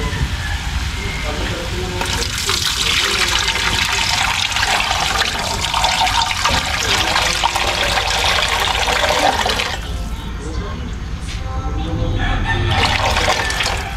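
Tap water runs steadily into a cooking pot in a home kitchen, a continuous rushing splash that shifts in tone partway through, with a rooster crowing somewhere in the background.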